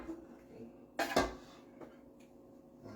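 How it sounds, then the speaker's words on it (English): Cooked food with minced garlic scraped and clattered onto a plate in a home kitchen, a short burst of utensil-on-dish clinks and scrapes at mid-distance, then quiet room tone. "So I'm going to transfer these to a plate."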